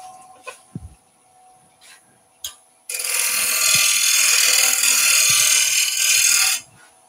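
A skew chisel cuts a lip into a wood-turned potpourri pot on a lathe: after a few faint knocks, a loud, steady hissing scrape runs for about four seconds and then stops abruptly.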